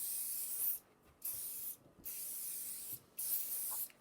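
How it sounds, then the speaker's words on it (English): Hairspray hisses from an aerosol can onto a child's braided hair in four bright, steady sprays of about a second each, with short silent gaps between them and no talking. "And we're just going to spray the hair."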